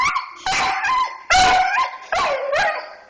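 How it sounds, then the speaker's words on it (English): A Doberman whines and yips for chicken in short, loud, high-pitched bursts, about three whimpering cries close by, with brief pauses between them. "You were stealing my chicken? Oh, it's a bad doggy stole my chicken. You need to ask nicely, Prentice."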